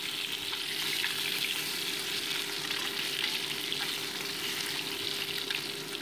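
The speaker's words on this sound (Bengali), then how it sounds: "তো মাছগুলো একটু উল্টে পাল্টে ভেজে নিচ্ছি" Bhola fish pieces fry in mustard oil and are turned now and then, producing a dense, even sizzle that holds steady from start to end with no talking.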